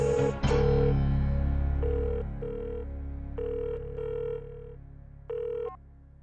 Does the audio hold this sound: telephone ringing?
yes